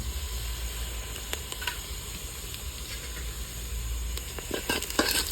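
Bay leaf, cinnamon, small cardamom, cloves and mace sizzle together in hot oil at the start of a homemade mutton kosha, a steady close hiss with a few sharp crackles and pops near the end.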